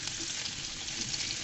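Potatoes sizzling in a hot pan while being fried for a chicken curry with potato and pointed gourd, a steady, close, continuous crackling hiss with no pauses.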